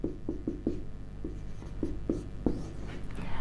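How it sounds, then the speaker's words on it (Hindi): Marker or chalk writing on a board during a Hindi literature lecture: a series of short rhythmic scratchy strokes, close and fairly loud, with no speech. "यहां पे लिख दे रहे हैं।"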